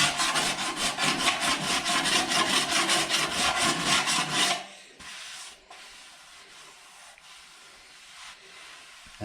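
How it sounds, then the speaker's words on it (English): A hand file shaves bare metal on a Lambretta GP scooter side panel with fast, rhythmic rasping strokes, loud and close for about four seconds before dropping to a fainter, slower scrape. "what I'm doing here is actually shaving some metal off"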